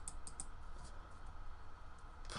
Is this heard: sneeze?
no